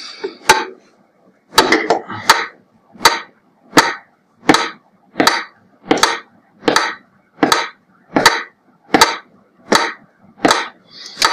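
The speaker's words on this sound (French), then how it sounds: "pour me synchroniser avec le métronome" Sharp metronome clicks at 80 BPM, fifteen or so evenly spaced ticks ringing out alone and loud, each a bright percussive snap with a short decay, keeping a steady tempo.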